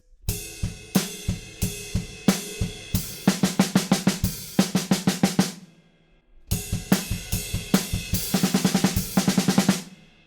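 A drum kit plays the chorus groove of a song, loud and close, with steady kick and snare hits building into dense cymbal-heavy bursts, a brief pause, then the pattern repeats.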